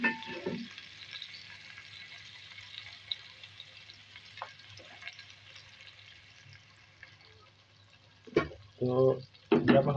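Chickpeas frying in a pan with pickle, chilies and pickle oil, a soft continuous sizzle with a few louder bursts of stirring or adding ingredients near the end, no talk over it.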